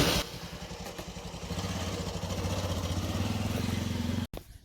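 A motorcycle engine starts and idles close by as it is taken out, a steady low throbbing chug that builds slightly, with clattering at the start and an abrupt cut just before the end.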